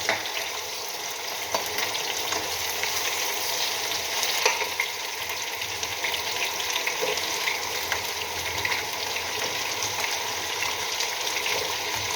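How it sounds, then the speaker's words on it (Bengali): Garlic frying in hot oil in a home kitchen, a steady, fairly loud sizzle that runs unbroken throughout with occasional faint scrapes and clinks, no voices. "একটু রসুনটা ভাজা ভাজা হয়ে যায়, এবার থেকে একটা খুব ভালো গন্ধ বেরোয় রসুনের।"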